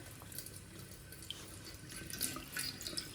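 Lukewarm water runs from a tap into a sink at a camping stop near French Pass, a soft, continuous hiss and splatter with faint drips, heard alone and fairly quiet.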